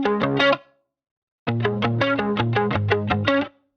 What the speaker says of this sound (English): It gives it a little bit of that like filtered crush sound